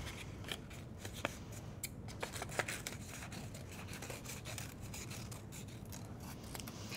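Scissors snip paper into leaf shapes in quiet, irregular crisp cuts and rustles, close and faint, with no talking.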